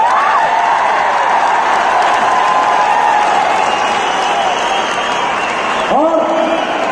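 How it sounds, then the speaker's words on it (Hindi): An audience claps and cheers at an Asclepius Wellness company award speech in India, a loud, sustained wash of applause mixed with crowd noise and whoops, with a voice talking over it throughout. "ताली,"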